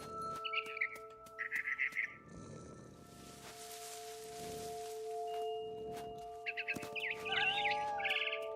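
A frightened barn swallow in the video game What Remains of Edith Finch gives short bursts of high chirps at the start and again near the end, set over steady game ambience with soft low thumps between.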